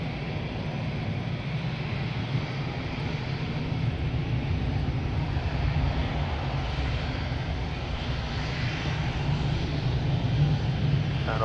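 An easyJet passenger jet at Madeira's island airport gives a steady, moderately distant engine roar that swells slightly partway through and holds without a break.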